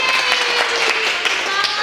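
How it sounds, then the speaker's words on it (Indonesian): Children's Sunday school class applauding, a steady bright wash of clapping with scattered sharper claps, moderately loud and continuous throughout, with faint voices mixed in. "Kita kasih tepuk tangan yang meriah ya"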